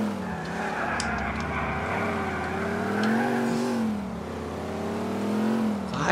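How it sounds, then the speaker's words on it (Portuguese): Engine of a heavy, sluggish car in GTA 4 on PS3 revving and accelerating hard, a loud continuous drone whose pitch rises and dips over about six seconds with faint skid-like squeals, no talking. "Vai, carro, acelera, carro."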